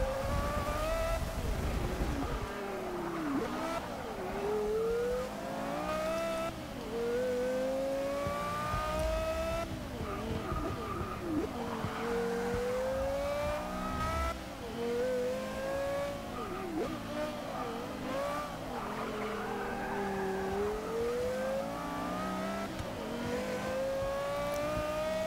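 Porsche Carrera GT in the Forza 6 racing game, its engine revving and rising through gears as tires squeal through corners; a steady, loud, close engine drone with repeated pitch sweeps, no talk.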